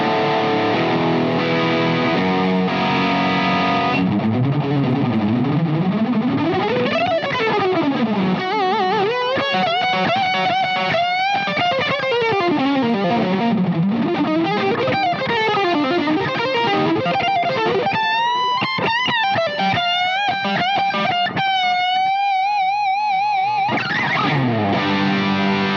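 Heavily distorted electric guitar, played through a Jackson Audio Asabi overdrive/distortion pedal, plays sustained chords and then bending, sliding lead lines, saturated and loud with no talking.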